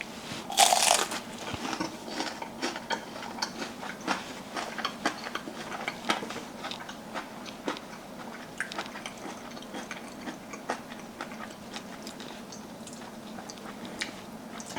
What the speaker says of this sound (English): It has a really crispy outer layer, and the inside is really chewy and tasty